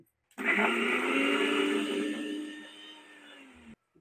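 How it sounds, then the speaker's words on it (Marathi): A mixer grinder whirs loudly and continuously while grinding fine masala for fish chutney. The motor slowly winds down before it cuts off abruptly. "बरोबर 5-6 मिनिटां मी मिक्सर थांबून मस्त असा बारीक वाटून घेतलाय"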